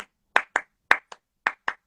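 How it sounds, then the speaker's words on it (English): Sharp hand claps, about seven crisp close strikes in an irregular rhythm, ringing out alone with silence between them. "it's a hand clap"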